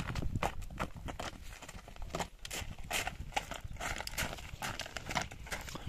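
Horse hooves clip-clopping steadily as the animal walks slowly on a path at a Kyrgyz livestock market, a close, continuous run of sharp hoof strikes with no voices.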